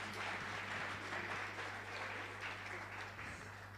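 Quiet clapping from an audience at a keynote address at a seminar on just energy and the future of work, dense and even, with a steady low hum underneath.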